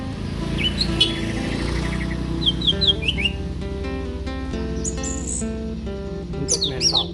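A young orange-headed thrush, or anis merah, chirps and whistles in short bright phrases over a steady background hum, with bursts of calls spread across the clip and a flurry near the end.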